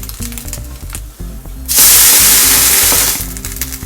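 Soaked eggless French toast fries in a pan, with light clattering and handling noises before a loud, bright sizzle swells up for over a second and then eases back.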